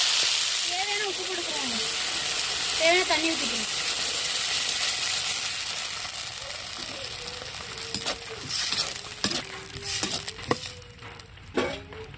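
Ingredients fry in hot oil in a pan with a steady sizzling hiss and occasional stirring clatter, while a voice talks over it near the start.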